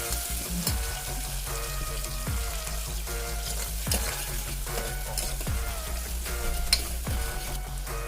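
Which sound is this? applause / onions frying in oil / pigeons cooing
onions frying in oil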